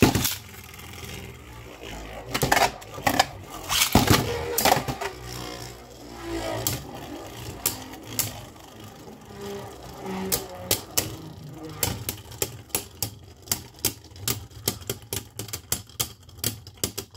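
Beyblade Burst Quadstrike tops Flame Pandora and Bolt Spryzen spinning in a plastic stadium, with rapid irregular clicking clashes at first, then a steady run of sharp, evenly spaced knocks.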